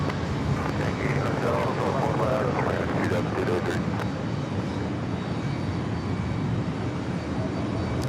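A Delta Airbus A220-100 jet is pushed back at JFK Airport, its engines giving a steady, moderate hum and rumble under faint background airport noise, with a voice talking over it.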